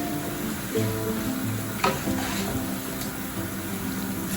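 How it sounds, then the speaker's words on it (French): Soy sauce and mixed vegetables fry in a pan while being turned, giving a steady close sizzle with faint stirring scrapes and no talking. "On va retourner le tout, question de bien mélanger les saveurs."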